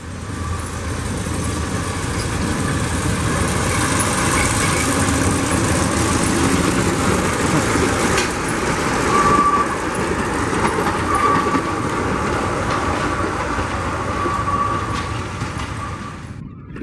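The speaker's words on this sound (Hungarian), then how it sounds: "Eljár a kis vonat, úgyhogy mindjárt készítünk róla felvételt." A small narrow-gauge forest train rolls past on a woodland track, a steady broad rumble of engine and wagons holding close and loud for the whole stretch, with faint higher tonal squeals along the rails and no talk.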